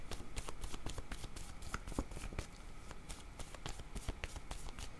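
A deck of picture cards is riffled and handled close up, producing a rapid, continuous train of crisp flicks and snaps over several seconds with no talking.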